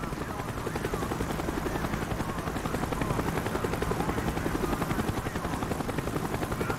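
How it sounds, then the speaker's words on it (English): A helicopter in the video game Call of Duty Black Ops circles overhead, its dense rotor chop steady and loud throughout with no pause, swelling slightly as it comes around. "The chopper is coming around again."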